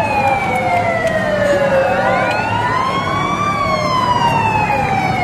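A loud fire truck siren wails continuously during a street protest on Recto, Manila, its pitch sweeping down and back up, close by and dominating the scene.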